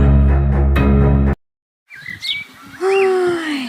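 A sustained tone cuts off into silence, then morning birds chirp and whistle nearby with rising and falling calls, clear and fairly loud.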